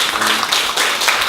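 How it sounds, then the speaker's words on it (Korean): Applause from an audience at a district office Q&A session in Seongbuk, Korea, a dense burst of clapping that fills the whole moment, loud and close. "박수 한번 주시죠."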